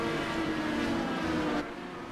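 Race cars are running with a low whine, a steady droning hum that holds through most of the moment and then drops off slightly near the end, with no talking.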